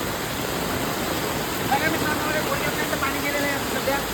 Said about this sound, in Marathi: आणि पावसाळा रात्रीपासून चालू आहे मुसळधार